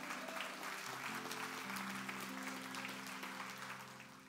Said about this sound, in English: Come on, you can clap for that.